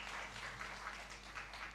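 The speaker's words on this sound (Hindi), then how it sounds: "एक बार जोरदार तालियां" Applause from an audience at a women's empowerment event in India, a short, steady wash of many hands clapping, fairly faint and continuous with no voices over it.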